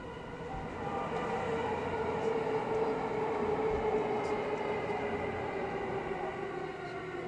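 A JR Yokosuka Line E217 series train running between Shinagawa and Kurihama gives a steady, loud rumble of wheels on rails with a sustained tonal whine, continuous throughout.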